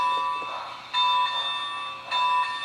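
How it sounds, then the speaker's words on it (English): A BLI 2-8-0 model locomotive's sound system rings its bell in repeated bright metallic strikes about a second apart, each clanging tone decaying before the next. "here's the bell."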